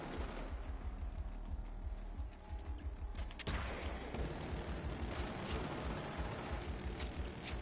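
Gunfire from a Killzone match on PS4: dense bursts of shots and rumbling impacts keep going, loud and near, with a sharp crack partway through.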